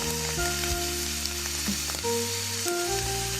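Ground beef seasoned with adobo all-purpose seasoning, garlic powder, black pepper and onion powder sizzles steadily in a pan while a utensil stirs and scrapes through it, close and continuous with no voices.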